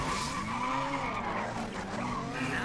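A race car drifts in the video game Race Driver GRID, its tires squealing in a long continuous screech over a loud, roaring engine.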